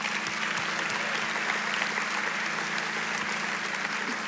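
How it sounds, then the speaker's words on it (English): Church congregation applauding fathers at a Father's Day service, steady continuous clapping from a sizable audience throughout, with no one speaking. "Can we give our dads a round of applause?"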